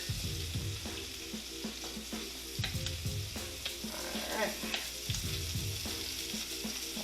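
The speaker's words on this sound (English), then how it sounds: "Bacon is cooking beautifully. It's still shooting at us" Bacon fries and sizzles in a pan with a dense, crackling hiss and sharp pops throughout, close and continuous, with some scraping and stirring.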